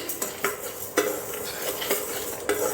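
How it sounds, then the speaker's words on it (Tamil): Urad dal is dry-roasted over medium heat and stirred in a pan, making close, regular scraping and rattling strokes with a faint sizzle between them. "அதை லைட்டாக மிதமான சூட்டில் வச்சு வறுத்து எடுத்துக்கரலாம்"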